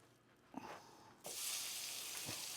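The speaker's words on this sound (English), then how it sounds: "We're going to put the pork in there and just cook it until it's lightly brown." Pork hitting a hot pan and frying, a soft clatter followed by a sudden bright, steady sizzle that keeps going with an occasional stir.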